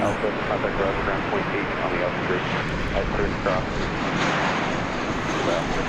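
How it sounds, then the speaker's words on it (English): An American Airlines jet arriving from St. Louis at DFW Airport rumbles in a broad, steady roar with wind noise, while someone talks over the sound. "Coming in from St. Louis is American Flight 1410"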